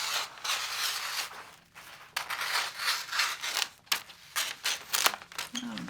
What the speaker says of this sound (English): got to get my scissors sharpened